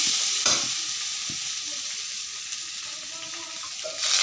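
Taro, potato and silver carp curry being sautéed and stirred in a pan, giving a steady close sizzle with scraping stir strokes, a louder clatter near the start and toward the end.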